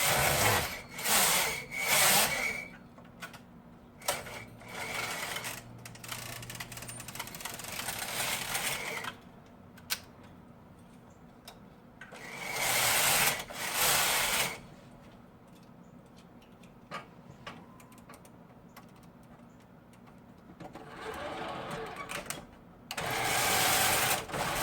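A 1980s knitting machine loaded with yarn, running in several loud bursts of rapid rattling, clacking carriage passes, separated by quieter gaps filled with faint clicks and a low hum.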